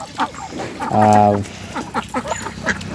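A loud, nasal duck quack rings out briefly in the middle, with people talking around it, as ducks run about at a pond's edge.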